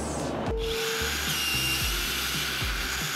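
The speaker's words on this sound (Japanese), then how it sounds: "全ネジカッターで切っていきます。" A threaded rod cutter snips through threaded rod in a workshop, giving a few quick, close metallic crunches over a steady background hum, with no one talking.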